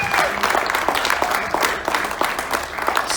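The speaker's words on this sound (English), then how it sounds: "give our families another wonderful round of applause" Audience applause at a military appreciation event: dense, sustained clapping from a crowd fills the full stretch at steady strength, with no voices over it.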